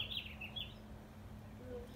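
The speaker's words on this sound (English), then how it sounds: "The birds are saying hi." Small birds chirp outdoors in hot spring weather during an Easter egg hunt: a few short, high tweets in the first part, soft and somewhat distant over a faint low hum.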